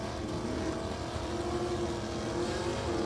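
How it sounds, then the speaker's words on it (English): A 1964 Ford Thunderbolt Super Stock drag car with a 427 engine drones at a drag strip, a steady, fairly distant engine tone holding with only slight shifts in pitch. "Kurt Neighbor's Super Stock A, the 64 Ford Thunderbolt. Throwing the gearbox in that 427 powered hot rod."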